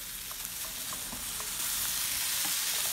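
Bitter gourd stirred in a pan with salt, a steady broadband sizzle with faint scraping strokes throughout, growing slightly louder toward the end, with no voices.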